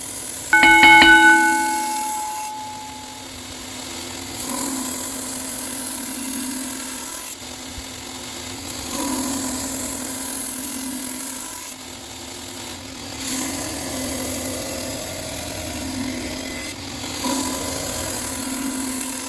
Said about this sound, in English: So I'm in the middle of still grinding in the bevels on this dagger.